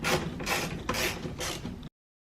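Ratchet clicking in four quick bursts while undoing the screws of a door speaker on a 2005-2011 Cadillac STS, close and fairly loud, with no talking.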